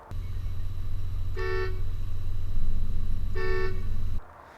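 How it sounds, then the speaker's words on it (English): A Hino 268 truck's air horn sounds twice from the dashboard control, two loud, bright, sustained blasts over a steady idling engine rumble, each lasting a little under half a second. "On the dashboard, you have your air horn."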